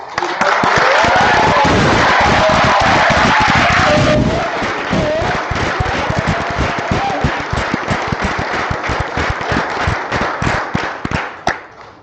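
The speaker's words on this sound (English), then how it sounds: "So one more round of applause." A crowd claps loudly and steadily for newly enlisted United States Army soldiers. The dense, close applause holds strong for about four seconds, then thins into scattered individual claps and thumps that fade out by the end.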